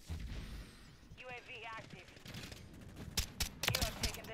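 Daemon pistol shots in the Modern Warfare 3 video game crack out as a few sharp single reports with a quick cluster near the end, set against game ambience and a brief electronic chirp, with someone talking at times.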